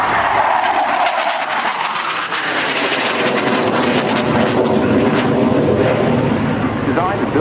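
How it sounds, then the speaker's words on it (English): An Aero L-159A ALCA light combat jet makes a slower pass with its landing gear down at an air show at Yeovilton. Its loud, steady engine roar fills the whole clip, and an announcer's voice can be heard over it. "Coming now with gear down, you see, into a slower pass"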